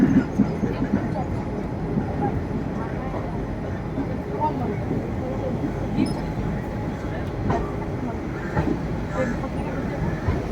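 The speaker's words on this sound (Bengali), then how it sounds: "আমাদের ট্রেন 5 ঘন্টার লেটে আহমেদাবাদ স্টেশনে এসে ঢুকলো।" A passenger train pulls into Ahmedabad Junction station, its carriages giving a steady low rumble with faint rail clatter and occasional clicks, heard from inside the coach with no clear talk.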